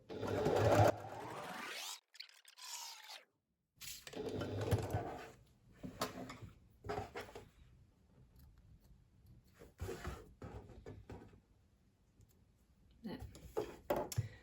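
A home sewing machine stitches fabric for a pouch, including a back stitch, in several short motor bursts of varying length separated by pauses, with a person talking in between.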